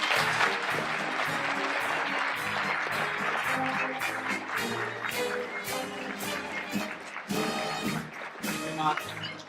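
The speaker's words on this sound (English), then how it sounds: "let's have one more round of applause for all the winners" An audience at an awards ceremony gives a sustained round of applause for the winners, with music or voices blending underneath the clapping throughout.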